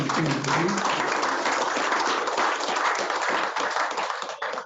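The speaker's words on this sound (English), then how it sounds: "A round of applause to him." At a book talk, an audience gives a round of applause for a guest speaker. Dense, close clapping fills the room, with a voice briefly audible at the start, then tapers off at the end.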